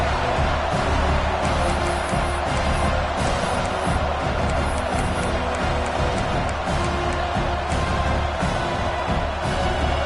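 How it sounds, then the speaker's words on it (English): A football stadium crowd at a Miami versus Oklahoma game roars and cheers steadily on a third-down play, a dense, loud wall of voices with scattered claps running unbroken throughout. "the crowd really getting into it"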